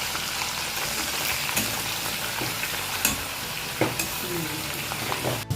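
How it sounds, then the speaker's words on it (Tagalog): Fish frying in a pan of oil for a Filipino vegetable dish, a dense, continuous sizzle with occasional sharp pops and spatters, close and loud throughout. "So ayan, prito lang natin ng kaunti."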